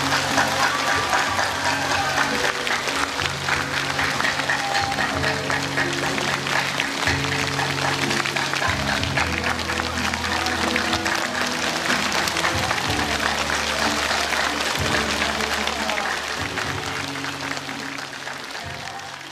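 An audience claps warmly as a spiritual master arrives at a gathering, a steady wash of applause running almost twenty seconds over music, easing off slightly at the end.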